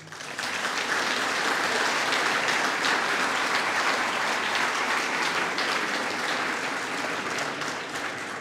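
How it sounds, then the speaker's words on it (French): Full, continuous applause from a ceremony audience honouring award recipients, thick and even from start to finish at moderate loudness, with no speech over it. "on peut les applaudir, oui"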